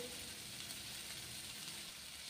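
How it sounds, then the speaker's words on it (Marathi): Cashews fry in oil over a low flame, giving a faint, even, continuous sizzle with no distinct pops and no talk. "इथे आपल्याला तेलात मंद आचेवर छान असे परतून काजू घालायचे आहेत"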